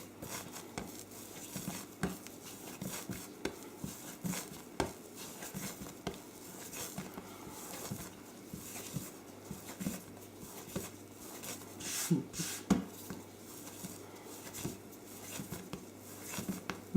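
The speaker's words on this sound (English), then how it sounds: "And to knead it, really, I'm just pushing it forward, folding it" Low-protein savoury pastry dough kneaded by hand: soft, quiet pats, presses and faint squishes in an irregular rhythm, with a few sharper taps scattered throughout.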